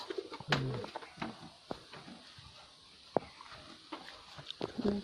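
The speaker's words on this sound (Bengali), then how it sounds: "এই একটা পায়রা আমার আবার এইসব পায়রা কোন ভাই? জিরা পায়রা কালদমা পায়রা" Kalduma pigeons coo softly close by in short, repeated throaty calls, with small rustles and flutters between them and a low background hiss.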